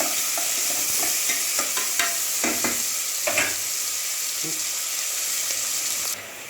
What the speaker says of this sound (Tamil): ரெண்டு வெங்காயம் எடுத்து கட் பண்ணி வச்சுருக்கேன் அதெல்லாம் சேர்த்துருங்க சேர்த்துட்டு நல்லா வதக்க வதக்க வதக்க வதக்கி விட்டுருங்க